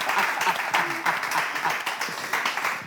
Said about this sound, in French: Applaudissez pour Cana.